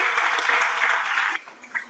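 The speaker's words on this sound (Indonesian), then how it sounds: "Berikan tepuk tangan." A church congregation claps in applause during a sermon, a dense wash of many hands close by that fades and breaks up near the end.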